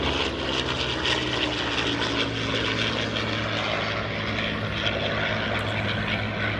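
A propeller warplane, a T6 or P-51 Mustang, flies past at an air show, its engine a steady droning roar that stays loud and even throughout with no voices.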